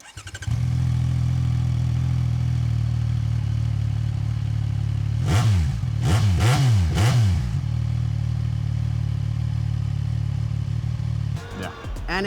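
A CFmoto 675SS motorcycle with its stock exhaust idles loud and steady nearby, then revs up sharply three times in quick succession around the middle before settling back to idle.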